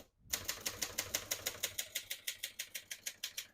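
Keys struck on a 1972 Hermes 3000 portable typewriter. After a brief silence comes a quick, even run of about twenty crisp, sharp clacks, close up and regular in rhythm.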